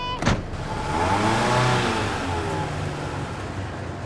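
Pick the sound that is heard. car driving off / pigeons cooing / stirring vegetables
car driving off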